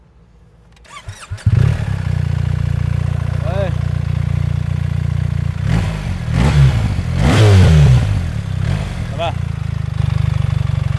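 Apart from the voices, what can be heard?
BMW R1300GS motorcycle keyless start, revving and idling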